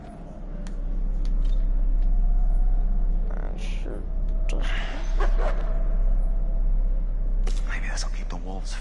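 A dog barks and whimpers in short yips against a steady low hum, with people talking quietly over it.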